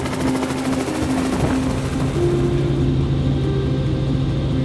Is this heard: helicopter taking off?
yes